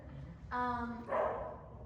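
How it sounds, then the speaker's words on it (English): Dogs barking nearby at a horse groundwork session, two short drawn-out barks or yips in quick succession, moderately loud over faint background. "Don't mind the dogs."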